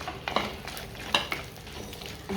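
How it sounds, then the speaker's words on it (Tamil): Dried red chilies and small onions frying in a pan, a steady close sizzle broken by a few sharp clicks and scrapes of a utensil against the metal. "லைட்டாக வறுப்படட்டும்"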